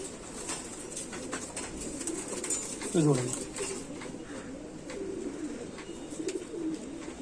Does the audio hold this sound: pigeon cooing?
yes